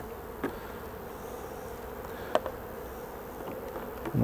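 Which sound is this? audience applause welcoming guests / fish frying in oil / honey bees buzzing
honey bees buzzing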